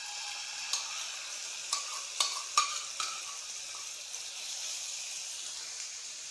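Marinated chicken frying in a pan with a tablespoon of oil gives a steady, soft sizzle, broken by a few sharp stirring clicks and ticks near the start, with no talking.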